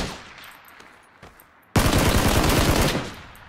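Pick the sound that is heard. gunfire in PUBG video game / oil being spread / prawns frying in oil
gunfire in PUBG video game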